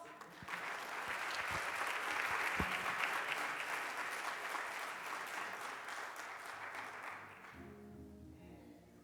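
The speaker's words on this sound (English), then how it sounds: "give him a round of applause" Applause for a speaker at a youth service, a sustained dense crowd clapping that swells and holds for several seconds before fading out near the end.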